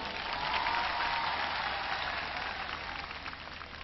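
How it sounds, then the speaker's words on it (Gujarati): A crowd at a Patidar community rally in Surat gives a loud, continuous burst of applause, steady and dense, heard a little distant and gradually easing toward the end. "એમને એકવાર જોરદાર તાળીઓથી વધાવીએ"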